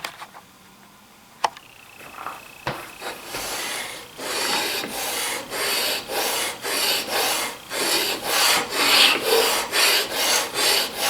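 A router plane iron is rubbed back and forth on a sharpening stone clamped to granite, building into a steady rhythmic series of gritty scraping strokes, close and fairly loud, after a few faint clicks at the start.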